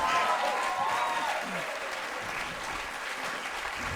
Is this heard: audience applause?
yes